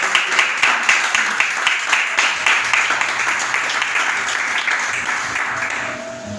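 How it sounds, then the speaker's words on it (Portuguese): Worshippers in a church service clap for the Lord Jesus, a loud, close burst of many hands falling into a rhythmic beat, steady for several seconds before thinning and fading near the end. "Então aplaude o Senhor Jesus."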